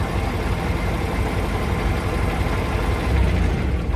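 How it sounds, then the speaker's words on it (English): Peterbilt 389 truck engine idling loud and close, a steady deep diesel rumble holding even throughout with a slight swell near the end. "this truck is really loud"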